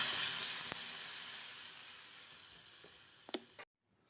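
Mustard seed tempering poured into lemon rasam gives a loud, steady sizzle with a few sharp crackles and pops, which fades slightly before cutting off abruptly near the end.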